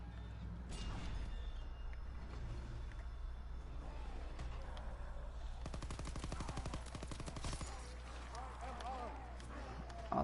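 Gunfire in Call of Duty WW2 zombies mode: a dense burst of rapid automatic shots near the middle over a low game rumble, with a player talking at times and quieter scattered sounds around it.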